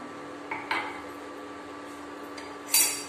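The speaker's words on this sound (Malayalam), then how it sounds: "കട്ടയില്ലാതെ ഇങ്ങനെ ഇളക്കിക്കൊണ്ടിരിക്കണം" A spoon clinks and scrapes against a pot while cornflour mixture is stirred into saffron pudding, with a few sharp metallic knocks over a quiet hum.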